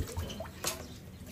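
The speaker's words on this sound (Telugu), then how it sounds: "ఏయ్ ఓ రామనాయుడు నీళ్ళు వచ్చినాయి" Water from a village borewell runs and trickles steadily at low volume, with a few soft splashes and drips mixed into a quiet background.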